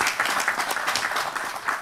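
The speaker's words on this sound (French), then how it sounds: "cette initiative, je vous demande de l'applaudir et de la saluer" Audience applause at an international colloquium on the Moroccan city of tomorrow, a short burst of full, steady clapping from a seated crowd.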